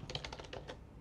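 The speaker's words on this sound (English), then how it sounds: "Well, just type installation 3" Quick, light keystrokes on a computer keyboard, about a dozen soft taps packed into a brief burst, close and quiet with no voice.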